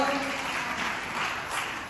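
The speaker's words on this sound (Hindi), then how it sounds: "तालियों के साथ इनका स्वागत करें" An audience at an award ceremony gives a steady wash of applause to welcome a guest, moderately loud and continuous throughout.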